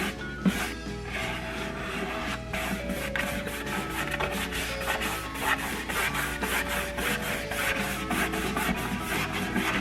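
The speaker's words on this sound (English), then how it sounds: "Using dark wax from Annie Sloan and my dark wax brush." A brush rubs Annie Sloan dark wax across wooden furniture in steady, repeated scratchy strokes, close and fairly loud, with music playing underneath.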